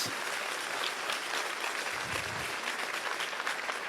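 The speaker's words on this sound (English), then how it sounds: "you can clap very loudly now" An audience at a governor candidates' forum applauds loudly and steadily, a dense wash of many hands clapping with no talk over it.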